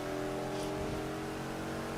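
A car engine hums and revs steadily in the racing video game Need for Speed Unbound, a continuous tonal drone at moderate level with no voices over it.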